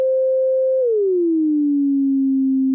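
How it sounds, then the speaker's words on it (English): A pure sine-like test tone used as a bypassed frequency sweep holds steady for under a second, then glides smoothly downward and settles on a lower pitch, clean, steady and loud with no voices. "Let's listen to this frequency sweep in bypass."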